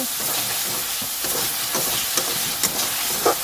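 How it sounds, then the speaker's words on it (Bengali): Tomatoes being stirred in a frying pan while cooking down for a fish curry, a dense continuous sizzle broken by soft scraping strokes of the spoon, close and fairly loud. "এই যে নাড়ি চাড়ি দিচ্ছি আমি"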